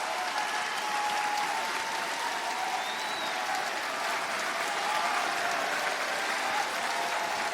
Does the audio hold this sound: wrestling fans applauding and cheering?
yes